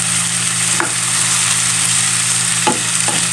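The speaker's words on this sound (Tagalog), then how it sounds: "Lalagay ko na rin po ang ating pinritong patatas at carrots. Ihaluin lang po natin." Fried potatoes and carrots are stirred in a sizzling pan for pininyahang manok, a steady close frying hiss with a few scraping clicks from the spoon.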